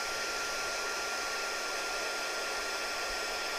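Heat guns, one corded and a Bauer 20 volt cordless model, run together in a steady, loud, unbroken blowing roar with no pauses.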